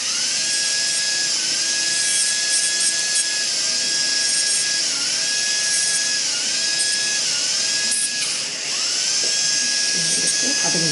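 A dental handpiece trims and smooths the sharp edges of a temporary upper molar crown, its steady high-pitched whine running throughout with brief dips in pitch as it touches the surface, loud and close.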